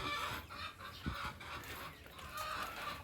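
Hen clucking in a backyard flock of chickens being fed black soldier fly larvae, soft repeated clucks close by amid steady low farmyard background noise.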